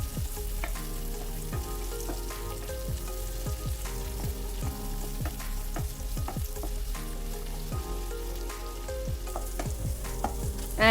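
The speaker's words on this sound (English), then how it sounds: "Next goes one large onion which has been thinly sliced, and on medium flame we need to saute the onions well till they turn golden brown in color." Thinly sliced onion sautes in oil over a medium flame for a Bengali tengra fish curry, a steady dense sizzle with frequent stirring clinks and scrapes throughout, close and continuous with no talking.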